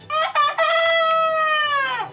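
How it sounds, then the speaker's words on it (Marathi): A rooster in Sangli city crows once, loud and close, with two short choppy syllables followed by a long drawn-out call that sounds like "kaka kaka"; no voices. "हा कोंबडा सकाळ झाली की ते काका काका म्हणून ओरडतंय"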